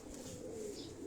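A pet pigeon coos softly in a brief, low murmuring call heard close by, with no talking over it.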